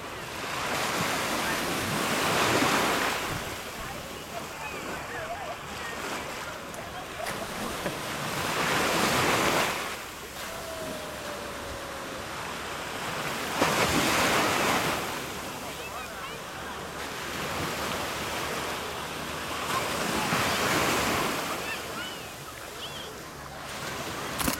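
Ocean waves at Destin, Florida roll in and break in slow surges, each swell rising to a loud crash and washing back, with wind buffeting the microphone.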